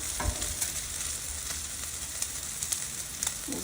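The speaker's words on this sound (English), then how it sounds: "So I think the bacon here is probably about done." Bacon frying on a Blackstone griddle, a steady close sizzle and crackle with occasional scraping clicks from a utensil.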